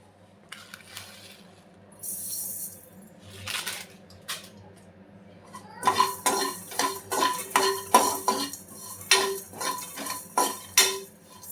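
White sesame seeds roast in a pan for drumstick curry while a spatula scrapes and clinks against the metal in a steady run of rhythmic strokes, close up, after a quieter start.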